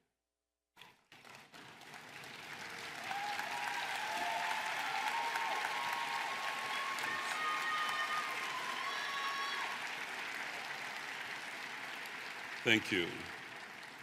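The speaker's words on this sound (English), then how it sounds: "Please stand and give a round of applause to those who gave you unwavering support" Graduates at a commencement ceremony applaud their supporters, clapping swelling after a quiet start into a sustained, moderately distant round, with a brief thump near the end and a voice saying a few words.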